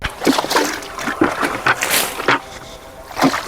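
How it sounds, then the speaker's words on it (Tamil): Water poured over spinach plants in a garden bed, a close splashing and trickling sound with uneven bursts as the stream hits leaves and soil. "மேலே தண்ணி ஊற்றுறோம் பாருங்கள்"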